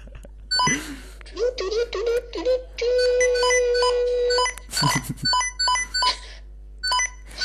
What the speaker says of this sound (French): c'est les alertes en fait de antivirus